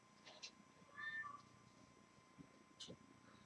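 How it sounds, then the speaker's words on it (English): A cat meows faintly once or twice in a quiet room, the short mew rising and falling, with soft clicks and shuffles around it. "Do you hear Chloe, our cat?"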